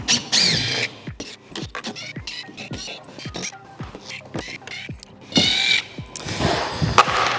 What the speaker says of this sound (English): We're gonna go take all of these screws off, all around the outside.